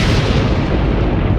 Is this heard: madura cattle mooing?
no